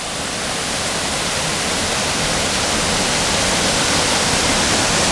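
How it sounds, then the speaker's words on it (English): Murray Reynolds Waterfall in a Pennsylvania state park roars steadily up close, a dense, unbroken rush of falling water with no voices. "this is the final waterfall of the day"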